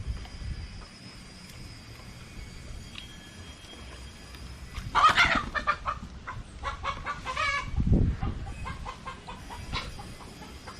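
A rooster clucks outdoors beside an open-air cooking setup, giving scattered bursts of calls over steady background noise, with no talking.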